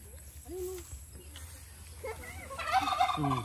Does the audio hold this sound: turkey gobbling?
yes